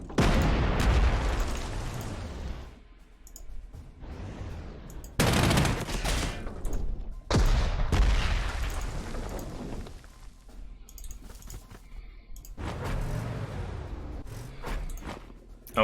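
Artillery in the Panzer Corps 2 strategy game, entrenched and firing during a World War II campaign before Moscow: repeated loud booming bursts and blasts separated by short lulls, with no talking.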